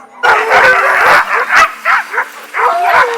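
Working sled dogs in outdoor kennels bark, yip and whine loudly at close range in repeated overlapping bursts, an excited chorus that carries on almost without pause.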